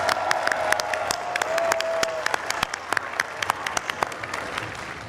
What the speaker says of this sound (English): Can we hear you with a big round of applause